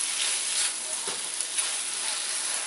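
Eggs for pad thai sizzle and hiss steadily in a hot pan as they are stirred, a continuous bright frying crackle with faint scraping, close and alone without talk.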